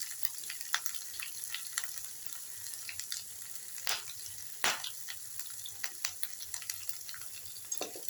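Grated ginger and asafoetida fry in a pan with a constant crackling sizzle, broken by sharp spits and pops scattered throughout, close and moderately loud with no talking.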